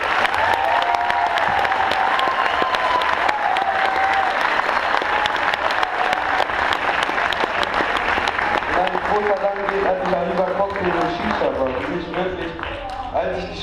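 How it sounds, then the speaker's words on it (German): A large audience at an evening integration event in Bottrop claps steadily throughout, a dense sustained wash of applause that tapers slightly near the end, with some voices and tones mixed in. "den ganz, ganz großen Applaus hätten jetzt diese Leute verdient"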